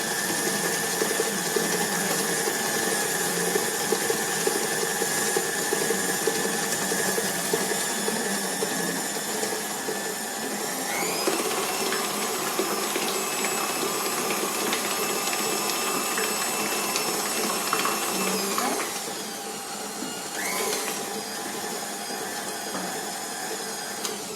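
A KitchenAid stand mixer creams cake batter with a steady mechanical whir and gear hum that runs for over twenty seconds. The motor shifts pitch partway through and drops near the end, with no talking.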